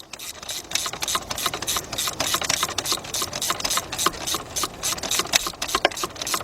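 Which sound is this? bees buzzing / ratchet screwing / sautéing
ratchet screwing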